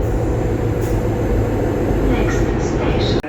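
A train arriving at Wrocław station in Poland rumbles loud and steady, with a faint high squeal near the end.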